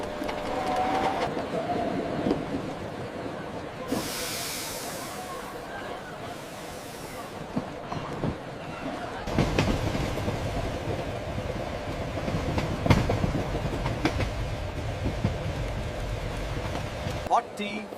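The Sahyadri Express pulls into a station platform with rolling rail noise and bursts of hissing steam, while voices and station chatter carry on around it.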